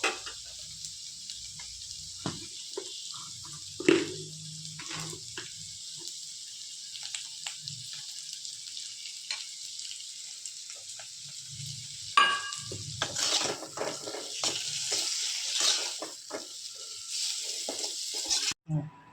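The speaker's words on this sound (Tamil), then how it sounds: "கொஞ்சம் வறுக்க கொஞ்சம் செவக்க மாதிரி வறுக்கணும்" Paneer fries in a pan with a gentle sizzle, with occasional scraping and stirring clicks. The frying grows louder and hissier toward the end.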